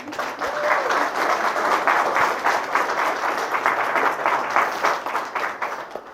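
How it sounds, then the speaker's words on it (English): Wedding ceremony guests give a steady round of applause for the witnesses, dense continuous clapping from a crowd at moderate distance, even in level throughout. "A wee round of applause to our witnesses who accompanied our couple."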